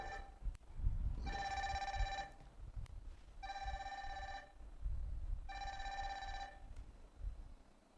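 A telephone rings in a studio with three long bursts of electronic trilling, separated by short gaps, fairly loud and close over quiet room noise.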